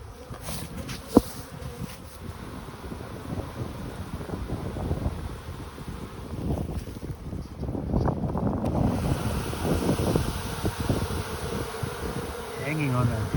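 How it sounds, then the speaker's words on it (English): Honey bees in a hive under emergency feeding, a dense continuous buzz close to the frame that swells louder partway through, with a brief knock early on. "Full of bees."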